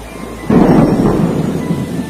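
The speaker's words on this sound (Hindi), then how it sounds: "अचानक एक दिन तेज बारिश होने लगती है" A thunderstorm with heavy rain: a close, loud thunder crack bursts out after a quiet moment and rolls on over a steady hiss of downpour.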